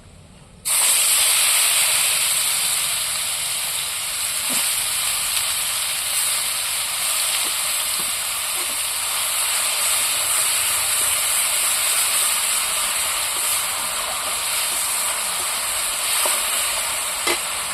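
Onion paste with cardamom and cloves hits hot oil in a Bengali fish curry, giving a loud, steady hiss and sizzle that carries through the whole stretch, with a few faint stirring clicks and no talk.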